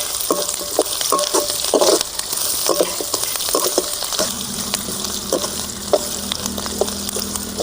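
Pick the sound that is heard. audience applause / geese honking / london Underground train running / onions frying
onions frying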